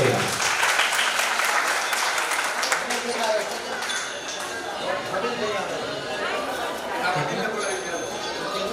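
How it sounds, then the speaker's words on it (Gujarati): Loud, sustained audience applause at a Saraswati award ceremony held by a Vaishnav Brahm Ramanandi Sadhu community in Junagadh, dense and steady for the whole stretch with faint crowd chatter mixed in. "જોરદાર તાળીઓ છે."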